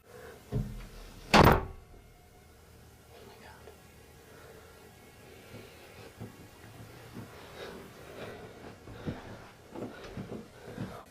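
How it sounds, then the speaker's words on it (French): A door slams shut once, loud and sharp, in a quiet house, followed by low rustling and faint movement sounds. "La porte se ferme violemment devant lui"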